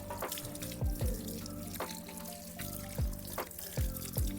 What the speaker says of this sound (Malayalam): ചെവിയുടെ ആ സൈഡിൽ വെള്ളം ഒഴിക്കുമ്പോൾ